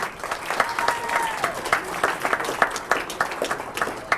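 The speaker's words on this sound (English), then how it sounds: "give a nice round of applause, please" At a media holiday luncheon in Rochester, an audience claps warmly for an introduced guest. The applause is close and lively, with sharp individual claps popping out of a steady wash.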